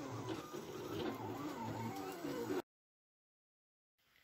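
A desktop cutting machine cuts a paper bow invitation, whirring and buzzing steadily up close for over two seconds before stopping abruptly into silence, with a faint stir at the end.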